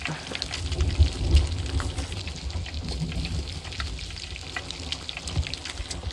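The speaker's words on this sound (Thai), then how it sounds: "เสียงทำอาหารแบบว่าซีรีส์มากเลยอ" Cooking sound in the pirate video game Sea of Thieves, a steady sizzling, frying crackle with light bubbling and a few low thumps, close and fairly loud, no talk.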